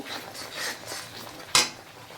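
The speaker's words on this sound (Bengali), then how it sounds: "দেখো ভালোভাবে নাড়তে হবে কিছুক্ষণ হাই ফ্লেমে" A spoon scrapes and stirs through a raisin-paste mixture in a pan over high flame, with soft repeated scraping strokes and one sharp metallic clank near the end.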